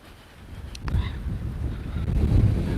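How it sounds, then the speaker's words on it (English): Wind buffets a microphone windscreen outdoors, a low rumbling roar that grows stronger over a few seconds with a couple of brief clicks, with no talk. "It's a little windy, but it's not as bad as yesterday."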